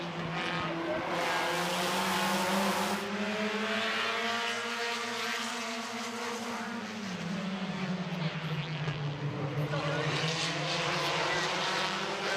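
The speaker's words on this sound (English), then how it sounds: "Irwin, Feaster, and Robinson battle for that number 2 position." Race cars in a heat race roar past on a track, engines rising and falling in pitch as they pass, loud, with a swelling drone and a slight fade midway.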